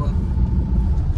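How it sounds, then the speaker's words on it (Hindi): Midday traffic jam with idling cars, engines rumbling low and steady for the whole stretch, with muffled voices close by. "दोपहर में इतनी ज्यादा ट्रैफिक हट ही नहीं रहे भाई, हम लोग आधे घंटे से इसमें ही खड़े हैं"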